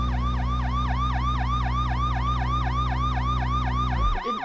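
Police car siren in the BeamNG.drive driving game, a loud continuous fast yelp wailing steadily over a low engine drone, then breaking off abruptly near the end.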